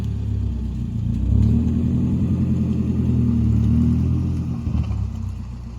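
A Subaru car's engine and exhaust rumble up close, loud and deep, swelling as it revs and then easing back toward the end, with no talking.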